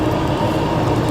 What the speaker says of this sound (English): That's a train on the bridge above.